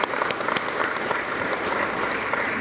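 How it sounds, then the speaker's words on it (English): Applause from a seated audience at a correctional officers' graduation ceremony greets the class's single honor graduate, a dense, steady roar of many hands clapping close by with no speech over it. "Please give him a round of applause."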